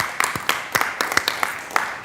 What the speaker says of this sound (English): give a quick round of applause to the staff for all the hard work